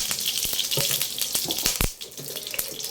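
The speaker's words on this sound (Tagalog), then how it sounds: "Ay, may konting tubig. Kaya tumatalsik-talsik." Oil spatters and crackles in a hot non-stick pan where a little water has hit it, giving a steady hiss broken by sharp pops and brief louder bursts, close and fairly loud with no voices.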